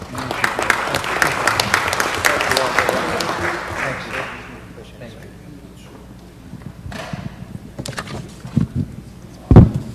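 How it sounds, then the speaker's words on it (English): Audience applause at a city council meeting, a dense burst of clapping for about the first four seconds that then fades out, followed by quieter room noise and a few scattered knocks and thumps. "Let's give them a round of applause."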